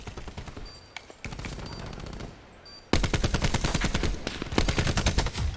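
Rapid automatic gunfire in a Call of Duty esports match at the 2019 CWL Finals, with sustained machine-gun bursts that grow louder and denser in the second half, close and continuous.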